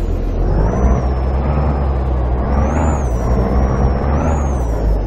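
A heavy truck pulls out of a tight loading dock in Euro Truck Simulator 2, its engine rumbling loudly and close while a high whine rises and falls, with no talking.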